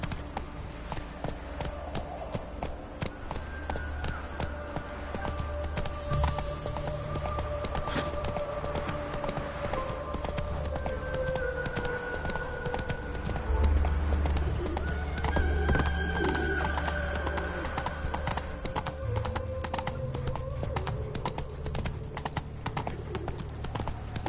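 Roach the horse clip-clops steadily through The Witcher 3, hooves thudding in a continuous trotting rhythm with occasional whinnies, set against game music and ambience.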